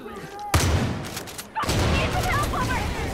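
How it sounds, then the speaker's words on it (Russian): Far Cry 5 game combat sounds off with a sudden loud burst of explosive gunfire, a short lull, then a second heavy blast rolling into sustained rumbling and crackling debris. "Чё всё взрывается-то?"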